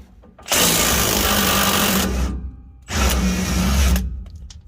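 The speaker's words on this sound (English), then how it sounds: "That'll allow you to clear the exhaust and get further out with your impact gun." A pneumatic impact gun backs off a 21 mm lower shock bolt on a 2018 Chevrolet Silverado, firing two loud, close hammering bursts of about one and a half and one second with a short pause between them.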